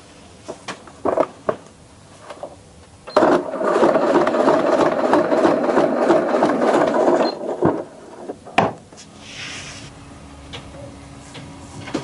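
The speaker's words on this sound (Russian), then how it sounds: "Сейчас уже вшиваю молнию." A domestic sewing machine runs a steady burst of stitching through bimini canvas while a zipper is sewn in, preceded by short taps and handling noises and followed by scattered rustling, close-up and without speech.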